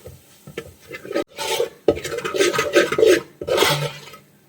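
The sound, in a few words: spice powders being sautéed and stirred in a pan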